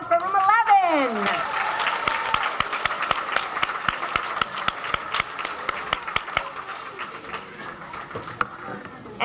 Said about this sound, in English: Let's have one more round of applause for room 11.